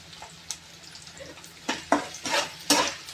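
Onions frying in oil heated very hot in a home kitchen pan, giving soft sizzling broken by several short scraping stirs and utensil clinks toward the end, close and moderately loud, with no talking.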